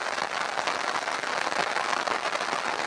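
Heavy rain pours down in a steady, dense hiss of countless drops, continuous and even throughout, with no voices.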